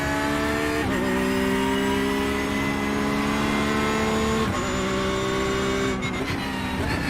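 LMP2 and GT3 race cars roar around the Road Atlanta circuit in an IMSA race, engines revving loud and close with repeated upshifts marked by brief dips in pitch, heard without talk.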